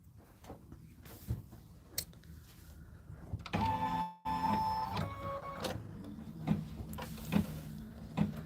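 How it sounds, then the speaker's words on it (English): An embroidery machine working in an 8 by 12 hoop gives off mechanical ticks and clunks, then a whirring, tonal motor stretch, then a few rhythmic thumps at a low level. "Push embroidery, and we're good to go."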